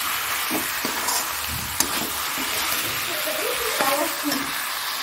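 Onion, tomato and potato sauté in a pan with salt, turmeric, chili powder and garam masala, giving a steady close sizzle with occasional stirring scrapes and light clinks throughout.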